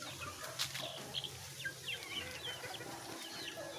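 Backyard chickens cluck and chirp in scattered bursts after feeding, with occasional wing flaps, at a moderate distance over steady outdoor ambience.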